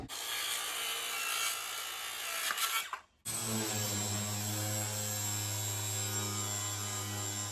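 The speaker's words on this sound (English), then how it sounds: "I'm going to cut a piece 1600 across here, and that should support the floor" A saw cuts through a piece of wood for vintage caravan flooring, a steady rasping stroke rhythm over mains hum, with a brief pause midway before the cutting resumes, loud and close with no talk.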